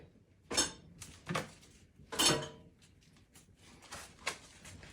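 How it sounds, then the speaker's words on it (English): A spoon stirs a pot of homemade Jamaican chicken soup, knocking and scraping against the metal in a few sharp clinks with quieter scrapes between them. No one speaks. "I'm going to be stirring my pot"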